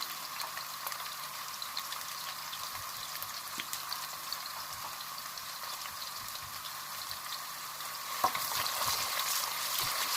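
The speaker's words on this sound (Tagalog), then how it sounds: "Lagay ng cooking oil, then sibuyas, tapos pag naluto na ang sibuyas" Sliced onions fry in cooking oil in a pan at home, making a soft, continuous sizzle with scattered crackles and a few light clinks near the end, with no talking.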